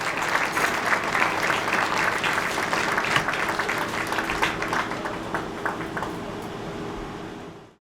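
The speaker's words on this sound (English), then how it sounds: "Give a big round of applause to the 2020 varsity East Ridge Knights football team." An awards ceremony audience claps loudly for the 2020 East Ridge Knights varsity football team, a steady wash of applause that holds for several seconds before cutting off.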